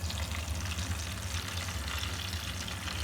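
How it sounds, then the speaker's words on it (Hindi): Fish pieces frying in hot oil for a fish curry, a steady close sizzle with watery crackle running unbroken throughout, no voices. "ये दोनों साइडों से फ़िश हमारी अच्छी तरह फ्राई हो चुकी है।"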